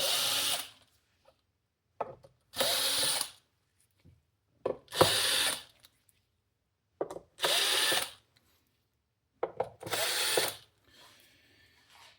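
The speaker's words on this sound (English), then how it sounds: "let's get these screws out and see what we're working with inside the board" Screws being backed out of a Technics SL-1210MK2 turntable with a driver, heard as five separate bursts of loud whirring and ratcheting, each lasting about a second, with quiet gaps and small clicks in between.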